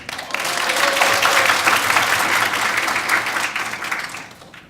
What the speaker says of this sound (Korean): 우선 먼저 고양시 자율방범대 엄모영 대장님 박수 드립니다.